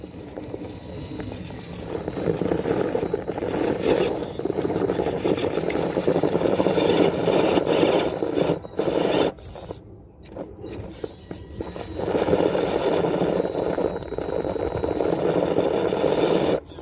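HSP 1/8 scale RC rock crawler on a test run, its electric motor whining steadily and close, with brief dips and pauses around the middle before it picks back up.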